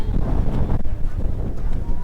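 Steady broadband wind rumble buffets the microphone at the windmills of Mykonos, a constant low roar with gusty fluctuations and no clear pauses.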